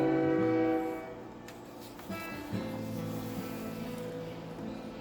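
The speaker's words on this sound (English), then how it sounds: "a train whistle blew, long and low, like a sad, sad song" A long, low train whistle sounds at a distance, holding its tone before fading into a steady rumble.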